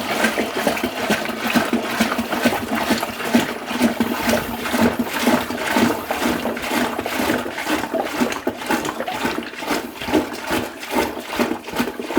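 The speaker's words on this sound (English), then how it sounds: "I do use RO water, so I'm just going to get that tipped in" RO water tipped into a brewing fermenter up to the 20-litre mark for a hazy IPA extract kit, a continuous gushing, splashing pour with rhythmic glugging pulses, steady and close throughout.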